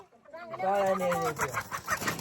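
A hen gives a burst of agitated clucks and squawks close by as it is being caught, with a person's voice mixed in.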